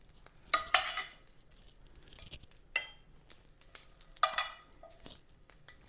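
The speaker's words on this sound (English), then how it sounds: "We're gonna add a few of our crispy carrots," Crispy, slightly burnt carrots tumbled into a pan of snap peas and stirred, giving a few sharp scraping and clattering bursts over a faint sizzle, with quieter gaps between.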